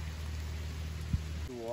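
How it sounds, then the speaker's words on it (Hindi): Heavy rain pours outdoors while people shelter under a tree on a walk in Canada: a dense, steady hiss, with a brief voice starting right at the end. "हम थोड़ी देर आगे गए और बारिश हो गई थी तेज"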